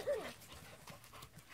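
A Weimaraner dog snorts and sniffs close by, giving a quick burst of breathy snuffles and light panting that stays fairly faint.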